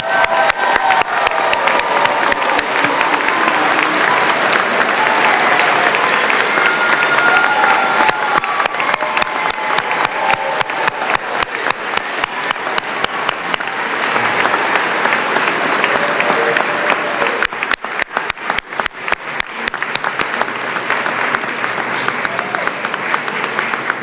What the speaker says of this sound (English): That was a wonderful round of applause for our class of 2022.